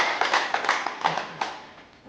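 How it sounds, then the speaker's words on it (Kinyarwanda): An audience claps for a man named Rurangwa in short scattered bursts of hand claps that trail off, with no voices over them. "Ubanze munyongera amashyi umugabo Rurangwa."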